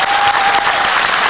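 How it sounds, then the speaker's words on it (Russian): A studio audience at an X Factor live show claps in a dense, loud burst of applause that fills the whole brief moment. "Аплодисментов."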